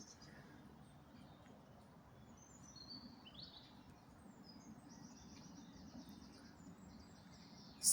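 Faint, distant birdsong of short, high chirps and tweets rising from an oak tree, scattered over a soft outdoor hush with no talking.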